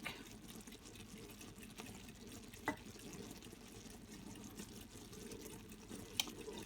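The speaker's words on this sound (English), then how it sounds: "I take the pan over there to the sink" Water runs faintly and steadily into a kitchen sink as a cooking pan is rinsed, with a couple of brief clinks partway through.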